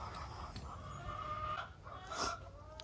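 Pullets and a rooster clucking close by in a chicken tractor on a farm, soft repeated clucks over a steady outdoor background with no talking.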